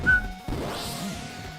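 In a roguelike card game run, a brief high whistle chirps at the start, followed by a sharp crash-like hit and a lingering swelling game effect, with no speech.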